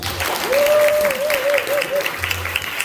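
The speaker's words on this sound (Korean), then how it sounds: "박수 한번 쳐주십시오" An audience applauds in a church during a celebratory inauguration service, steady close clapping that fills the room, with a sustained whistle-like tone rising over it.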